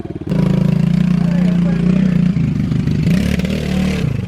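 Pit bike engine revving loudly up close as it is ridden, a buzzing, rising and falling whine with clattering. People talk over it.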